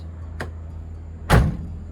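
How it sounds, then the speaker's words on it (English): A car door slams shut once with a loud, close thud, preceded by a quieter click or latch sound, amid a garage setting around a 180SX and EK project cars. "forgot to close the door"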